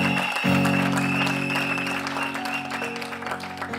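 Congregation applauding in a church, a sustained wash of clapping over a held organ or keyboard chord, loud and steady throughout.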